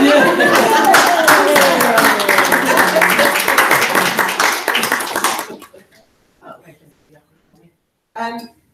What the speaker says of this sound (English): Let's clap, shall we?